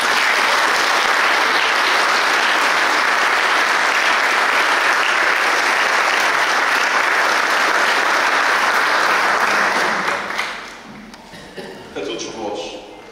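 Audience applause at a devotional concert honouring Nossa Senhora da Ajuda in Covoada, a dense, loud, sustained roar of clapping lasting about ten seconds before thinning out as a voice begins speaking.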